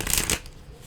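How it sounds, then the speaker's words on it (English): A Prism Oracle card deck being shuffled up close: a brief, dense riffle of cards that cuts off sharply into quiet. "I'm going to pull 2 cards from the Prism Oracle deck"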